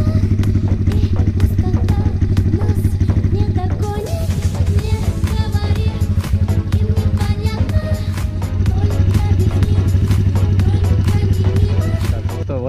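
A small pit bike engine runs continuously at close range, a steady buzzing drone with sharp clattering ticks layered on top throughout.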